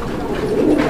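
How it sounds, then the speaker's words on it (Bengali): Pigeons cooing at a pigeon market, a short burst of low throaty coos close by, loud and clear with faint background noise. "একদম ডাকের কবুতর দেখতে পাচ্ছেন।"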